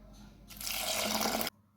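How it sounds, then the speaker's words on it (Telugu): Water poured into a pot of mango dal (mamidikaya pappu) with green chillies, a steady splashing pour that starts abruptly, runs for about a second, then stops cleanly. "వాటర్ అయితే యాడ్ చేసుకుంటున్నాను"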